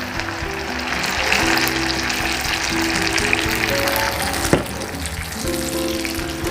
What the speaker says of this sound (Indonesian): Saya masukkan air ya, saya masukkan airnya.